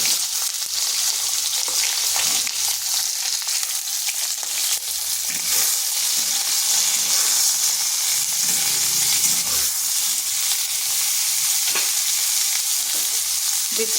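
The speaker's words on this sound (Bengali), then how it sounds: "এরপর ওই তেলের মধ্যে দিয়ে দিচ্ছি কেটে রাখা বেগুন" Cut eggplant pieces frying in hot oil, a loud, dense, continuous sizzle and crackle close by, with occasional stirring scrapes over the steady hiss.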